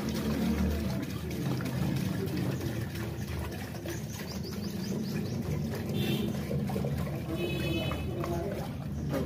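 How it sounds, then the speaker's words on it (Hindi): Water from a bore well pours steadily and continuously into an air cooler throughout, a full, rushing flow with faint background chatter and occasional bird chirps. "तो अभी लगाते हैं पानी कूलर में।"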